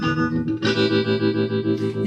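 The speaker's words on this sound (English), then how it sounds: "I'm now going to put in the ring mod, and it's got a very sort of slow carrier oscillation here." Electric guitar chord run through a Moog MF-102 ring modulator set to a slow carrier, sustaining a thick, metallic tone that pulses in a steady tremolo-like wobble.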